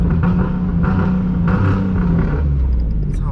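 Nissan 370Z sleeper build revving close by, a loud steady engine drone with swelling throttle blips through a residential neighborhood, with no talking over it.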